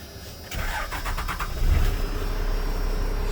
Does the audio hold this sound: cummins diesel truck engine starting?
yes